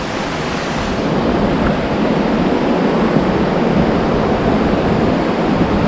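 Strong river current near Tappiya Falls in Batad, Banaue, Ifugao, a loud, steady, close rushing roar of fast water that fills the whole clip without pause.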